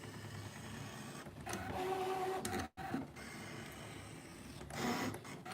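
A Brother ScanNCut cutting machine works steadily on material, its motor whirring with faint whining tones and brief mechanical shifts, moderately quiet and without talk.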